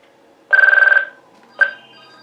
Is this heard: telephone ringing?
yes